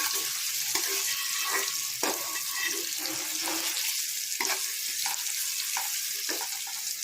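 Onion and potato pieces roast with salt in a pan, making a steady close hiss with repeated knocking stir strokes at an irregular rhythm throughout.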